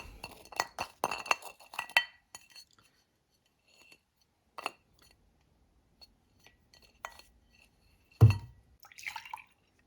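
A glass of milk clinks and taps at a tasting table, with a cluster of light glassy knocks early on and then a few sparse, scattered clinks and one firmer knock near the end, all quiet and free of speech.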